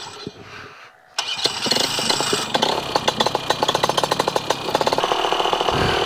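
A propeller aircraft engine starts up on a foggy airfield: a quiet lead-in, then a sudden catch into a loud, rapid, throbbing run with steady pulsing firing beats, close by.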